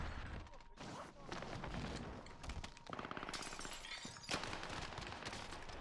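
MP7 submachine gun hip-firing in Warzone, rapid bursts of automatic gunfire with crackling impacts and breaking sounds, loud and dense, stopping and restarting several times.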